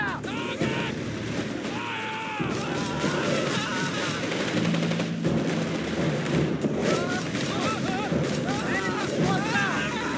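Gunfire in the strategy game Company of Heroes 3 on a North Africa battlefield: scattered rifle and machine-gun bursts with wind and engine noise, while in-game voices call out orders over the fighting.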